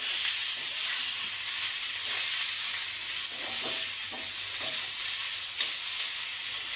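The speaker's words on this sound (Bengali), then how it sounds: "এখন আমি শাক ভাজিটা দিয়ে দিই।" Greens fry in a pan with reddened onion, garlic and dried chili, making a continuous loud sizzle with occasional stirring scrapes, and no voice is heard.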